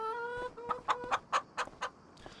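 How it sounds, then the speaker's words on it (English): Chickens cluck in a short burst of five or six rhythmic, moderately loud calls in a Farming Simulator 25 barn, following a brief sustained tonal note, with no talking. "Let's go to the chickens. Whoa. We are in with the chickens."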